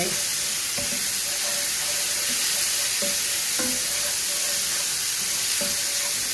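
Masala kaleji (liver) sautéing in a pan gives a steady, close sizzle and hiss, broken by repeated light scraping stirs at a regular pace, with no voices.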